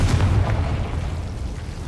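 A Confringo blasting spell explodes in Hogwarts Legacy, giving a dense, rumbling boom that fills the whole stretch and fades slowly with no talk over it.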